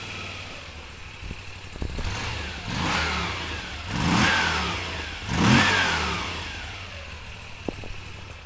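A 2018 Moto Guzzi V7 Stone III 750 V-twin motorcycle starts up close by, then gives three rising revs that fall back to a lumpy idle, with no talk.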